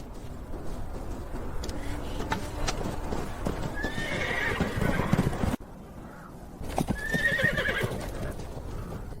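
A horse gallops with steady hoofbeats and gives two sharp neighs, one in the middle and one near the end, in a battle scene from a Chinese historical drama.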